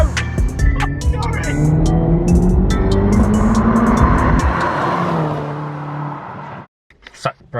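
Remapped Mini Cooper S accelerating hard in pursuit of a BMW M2, its engine droning loud and close with rising pitch, then cutting off abruptly near the end.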